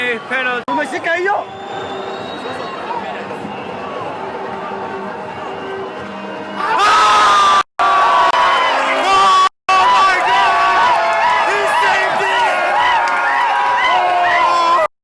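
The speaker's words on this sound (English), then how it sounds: "The crowd went mad." A packed stadium crowd at an AFCON football match erupts in loud, sustained cheering after a quieter stretch, the roar swelling close and dense for the rest of the stretch with brief cut-outs.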